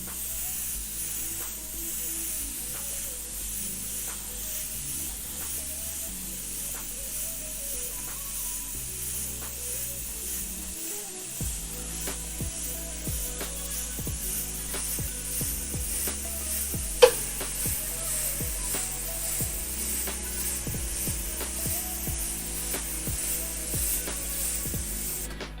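Airbrush misting a purple-red paint mix onto a model car's rear bumper area, a steady soft hiss running throughout with faint clicks and a brief sharp tick near the middle, no talking.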